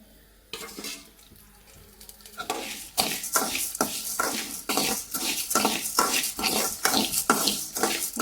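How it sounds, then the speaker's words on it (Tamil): Black kavuni rice being stirred and roasted in a pan, with a run of repeated scraping, rustling strokes in a steady rhythm, close and fairly loud after a quieter start. "இப்போ வந்து பார்த்திங்கன்னா நம்ம வந்து கருப்பு கவுனி அரிசி வந்து வறுத்துக்கலாம்"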